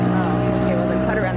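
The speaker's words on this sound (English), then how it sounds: "this is as fast as this crappy 5-horsepower engine would actually go." A dinghy with a small 5-horsepower outboard engine runs at full throttle across a Caribbean bay, giving a loud, steady motor drone with rushing wind and water all the way through.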